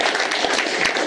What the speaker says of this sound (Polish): Powitajmy naszego gościa, brawa.